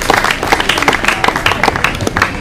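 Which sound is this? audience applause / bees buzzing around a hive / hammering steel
audience applause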